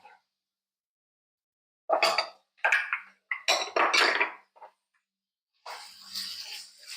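Diced peppers drop into a pan in several short, bright bursts of clattering and clinking, close and fairly loud, with pauses between each batch and a longer rustling spill near the end.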